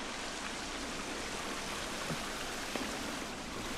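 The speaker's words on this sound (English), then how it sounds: "That's really loud water." Loud flowing water in a cave in the survival game The Forest, a steady dense rushing roar, close and continuous with no voices.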